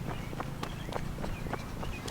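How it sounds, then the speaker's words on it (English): Quick footsteps of a person running outdoors, a steady series of light thuds close by over a constant background hum, with no talking. "Now I gotta run and catch her over here."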